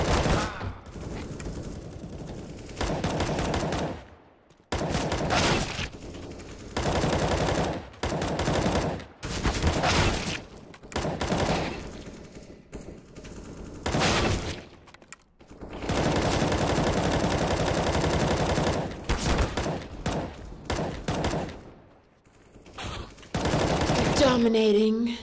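Three players fire at once in a shooting game, producing heavy, near-continuous gunfire in long loud bursts broken by short pauses, with voices mixed in.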